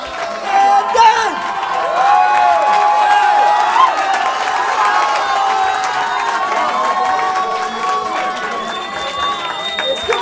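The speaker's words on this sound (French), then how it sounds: "Je vous laisse applaudir bien fort." A crowd at a French rap battle cheers and whoops loudly and continuously, with shouting voices and some clapping mixed into a sustained roar.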